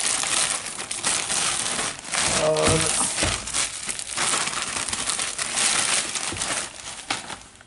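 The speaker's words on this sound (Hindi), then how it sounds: "सबसे पहले मैं इस प्लास्टिक के तामझाम को हटा देता हूँ" Plastic packaging being crumpled and pulled off a new Redmi Note 6 Pro phone, a continuous crinkly rustle with sharper crackles that runs the whole time, with someone speaking briefly over it.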